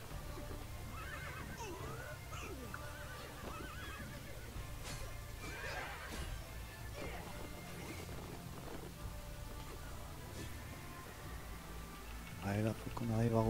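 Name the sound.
horses neighing and galloping in a video game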